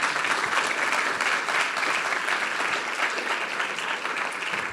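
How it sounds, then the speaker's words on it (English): Dense, sustained applause from a summit audience thanking a panel, loud and even throughout with no letup. "So please, a hand of applause for our panelists."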